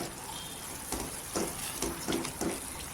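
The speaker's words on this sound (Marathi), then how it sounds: "एक दोन मिनटं असं तेलावर परतायचं" Masala for misal pav sautéing in hot oil, a steady soft sizzle with a few louder bubbling pops and stirring surges.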